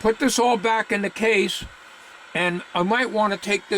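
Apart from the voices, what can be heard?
No distinct noise like a dog, phone or traffic.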